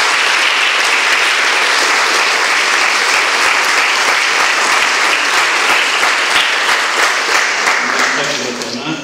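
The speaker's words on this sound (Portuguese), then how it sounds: "Mais um aplauso bem forte." Loud, sustained applause from a large crowd at a church faith gathering after a ring is placed on a finger, dense and steady clapping from start to finish, tapering off slightly at the very end.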